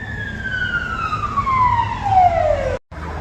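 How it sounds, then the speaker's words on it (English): An old fire engine siren sounds during driver training on urban streets, a loud, steady wail sliding slowly downward over about three seconds, with a brief dropout near the end. "It was an old fire engine, like they were doing driver training in an urban environment."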